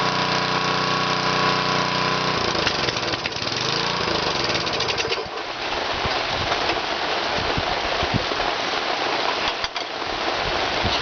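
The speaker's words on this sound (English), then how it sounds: "As you can hear, it's raining outside." Rain falls steadily outside as a constant broadband hiss, while a nearby small engine drones at first and then cuts out, leaving the rain patter alone.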